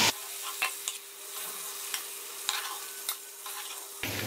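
Kofta meatballs fry in hot ghee with a continuous close sizzle, a faint steady hum underneath and scattered spoon clicks; the sound cuts off abruptly near the end.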